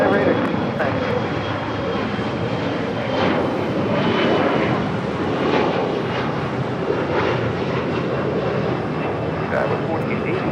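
An airliner takes off from runway 25 right at Los Angeles International Airport, a loud, sustained engine roar holding steady throughout with broadband rumble and hiss, while radio voices talk over it.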